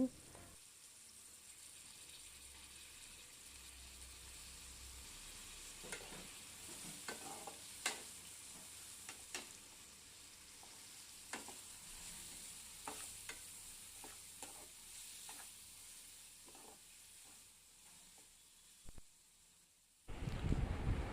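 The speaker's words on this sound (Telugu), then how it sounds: "ఇందాక కడిగి పెట్టిన మెత్తలు ఉన్నాయి కదండి అవి వేసేసి మళ్ళీ ఫ్రై చేయాలి" Raw banana pieces fry and get stirred in a pan, a soft steady sizzle broken by scattered light scraping taps from the stirring, and a louder noise rises right at the end.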